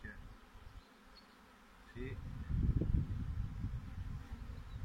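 A swarm of honeybees arrives at the hive and is gathered up outdoors. At first the buzzing is faint, then it swells about halfway through into a dense, close, low hum of many wings that holds steady to the end.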